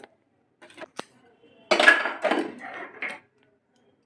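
Peanut chikki mixture being stirred in a pan off the heat, a few sparse metallic clinks and scrapes followed by a denser burst of scraping and knocking, then quiet.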